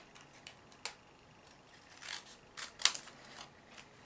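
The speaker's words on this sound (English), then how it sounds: "you can just trim off the excess at the top" Scissors snip away excess cardstock while making a handmade card, a few faint, sharp cuts scattered across a quiet background, with the last snip the crispest.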